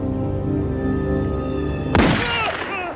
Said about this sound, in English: It was definitely a gunshot.